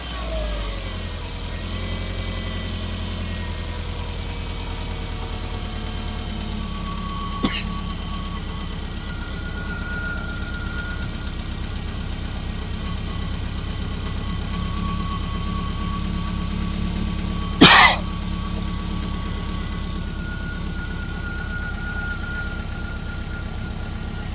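A car engine idles steadily after being revved to 2,000 rpm during a battery test, with a constant low rumble, one brief sharp click midway, and a short louder burst near the end.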